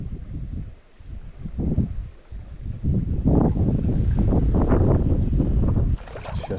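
Gusty wind buffets the microphone in loud, uneven bursts while wading and fishing on a river, building to a sustained roar before easing briefly near the end.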